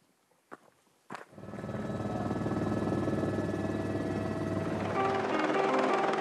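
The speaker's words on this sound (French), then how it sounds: "Au refuge de Petrapiana, les rotations d'hélicoptères s'enchaînent." Helicopter making supply rotations to a mountain refuge at 1800 metres on the GR 20 in Corsica: after a couple of sharp knocks, rotor and turbine noise swells into a loud, steady close drone.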